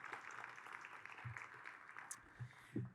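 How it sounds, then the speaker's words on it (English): Audience applause for Matthew at the opening of Community Hospital Long Beach: soft, distant clapping spreads steadily through the whole stretch, low in level, with a few faint thumps near the end. "let's give Matthew a big round of applause for your amazing leadership"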